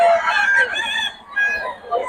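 Farm-quality roosters and chickens crow and cluck at close range, with a couple of long, wavering crows separated by brief pauses, fairly loud and clear.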